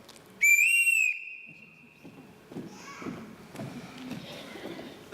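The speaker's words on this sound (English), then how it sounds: "Everyone in this house answers to a whistle." A single sharp, high signal whistle blown to summon a household rings out once, loud and sustained for under a second, followed by scattered footsteps and low murmuring voices.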